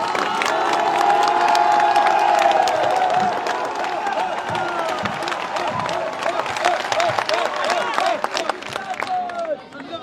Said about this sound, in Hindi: तालियों में जोर कम है।